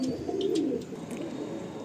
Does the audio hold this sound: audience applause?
no